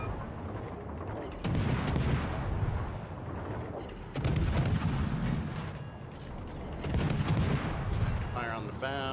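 Three heavy, booming cannon shots in a tier 6 tank battle video game, each one loud and close, spaced a few seconds apart with a rumbling tail after each.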